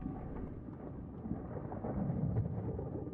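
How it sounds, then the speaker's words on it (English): A glitch storm in the art game Ghosttown rumbles as continuous low thunder with rain-like noise, steady and moderately loud, swelling slightly toward the end, no voices. "Here it would seem we're kind of overcome with a bit of a glitch storm."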